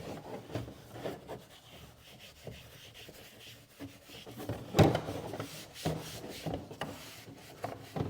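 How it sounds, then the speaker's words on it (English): A P&S scrubber brush rubs wet cleaner over a car's interior plastic trim in repeated close, soft scrubbing strokes. There is a slightly louder knock midway, and no voices. "Let's soak it down with the cleaner. I like this thing. The P&S scrubber works really well."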